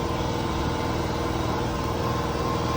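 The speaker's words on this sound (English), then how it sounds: "my compressor is still running" Air compressor running steadily in a woodworking shop, a constant loud motor drone with a buzzing hum, unbroken and without voices.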